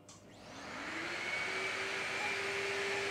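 A CNC router spindle spins up to cut a sign, its whine rising steadily in pitch before settling into a loud, even, sustained high tone. It is close, with no talking.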